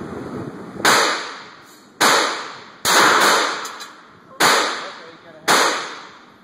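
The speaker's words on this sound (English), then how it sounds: "It's ready to fire." Five sharp Glock pistol shots ring out at an outdoor range, spaced about a second apart, each a loud crack with a short decaying tail, and no talking over them.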